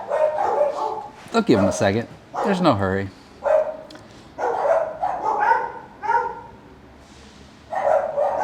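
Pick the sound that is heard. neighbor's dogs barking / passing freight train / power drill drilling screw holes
neighbor's dogs barking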